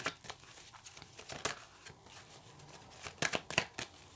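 Tarot cards shuffled by hand in short, soft riffling bursts with brief pauses between them, fairly close and quiet, with no talking over them.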